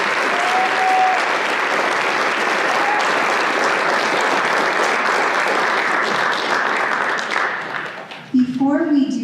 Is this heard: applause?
yes